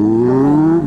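A stolen Suzuki GSR750 motorcycle, its engine revving loudly and steadily up close with a rising tone as it pulls away.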